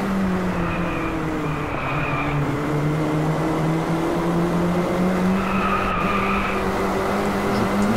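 Racing car in the video game Drive Club on PS4, its engine holding a steady, loud drone while tires squeal and skid in drawn-out wails over it.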